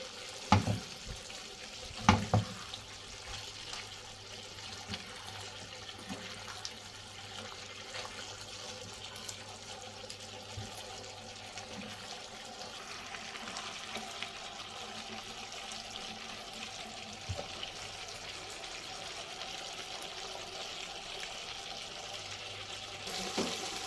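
Chicken fajita strips with peppers being stirred in a hot pan, giving a steady sizzle with a few louder scraping clatters near the start. Close and continuous, no talk.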